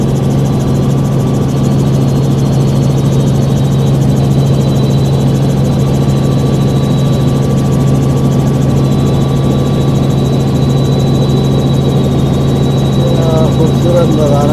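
A helicopter's engine and rotor drone steadily and loudly throughout, a constant low roar heard from inside the aircraft over Barcelona beach, with occasional voices underneath.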